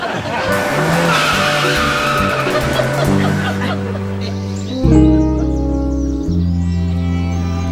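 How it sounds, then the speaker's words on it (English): A car drives round with squealing, skidding tyres, loud and close, its engine note rising and shifting over a continuous scrubbing screech, with a bird faintly audible in the background. "Drive round, Barry."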